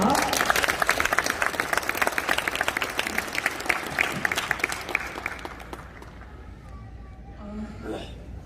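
Dense applause from a crowd welcoming a school principal at a graduation ceremony, loud and sustained for several seconds before fading, with a voice beginning to speak as it dies away.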